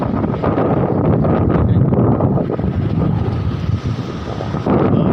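Strong, steady wind buffeting the microphone by the sea, with a low roar of surf beneath the gusts.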